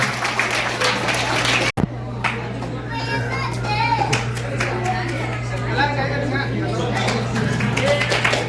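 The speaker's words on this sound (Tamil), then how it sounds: "ஒரு மிகப்பெரிய கைத்தட்டல்" Audience applause for two singers at a Vaikasi Visakam friends' get-together in Al Khobar, a steady mass of clapping and chatter filling the room, with a brief dropout partway through and crowd noise continuing after.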